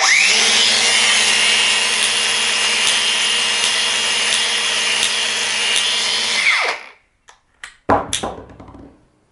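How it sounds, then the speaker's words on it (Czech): A cordless Bosch GWX 18V-15 SC Biturbo angle grinder runs steadily at a loud, close, high-pitched whine for about six seconds, then spins down, followed by a few sharp clicks and clacks of handling. "pustím si brusku."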